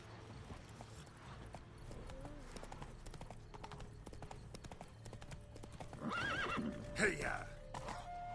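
Horse hooves clip-clop steadily through a Witcher 3 game scene, with a loud whinny near the end, under faint music and occasional character voices.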